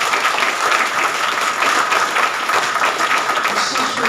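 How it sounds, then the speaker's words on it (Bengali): An audience claps loudly and continuously, a dense, even wash of applause that lasts the whole time and is heard close and on its own. "ওর জন্য জোরে একটা করতালি দিয়ে"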